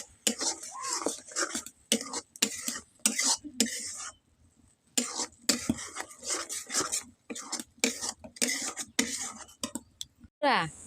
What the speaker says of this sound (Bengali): আমি একটু খুন্তির সাহায্যে নেড়ে চেড়ে ভাজবো